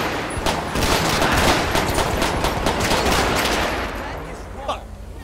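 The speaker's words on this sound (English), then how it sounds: "Dispatch, shots fired." A dense, loud fusillade of rapid gunshots in a police patrol scene in the video game GTA V with the LSPDFR mod, near and continuous for several seconds before tapering off, with a few last sharp reports.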